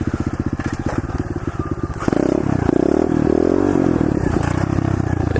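A pit bike's small engine revs hard during wheelies on a sidewalk, loud and close, with a steady pulsing idle that jumps to a sustained high-revving whine.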